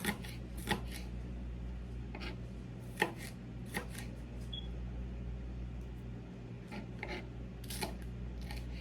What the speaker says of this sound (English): We'll just dice this up.